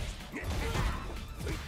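A crashing impact hit from a Drive Impact in Street Fighter 6 during a tournament match, a dense smashing burst mixed with game sounds and crowd noise.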